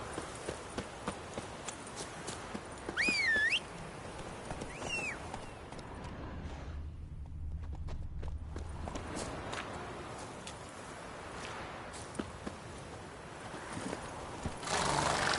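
Horse hooves clip-clopping in the video game The Witcher 3: Wild Hunt, a steady walking rhythm of close hoof beats over ambient game sound, with a brief whinny and a short quieter lull midway.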